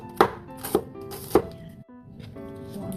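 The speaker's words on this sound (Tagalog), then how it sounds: "Tapos maghiwa tayo ng sibuyas, bawang at luya." Three sharp knife chops of onion, garlic and ginger land on a cutting board, close and crisp, with quieter cutting and board noise between them.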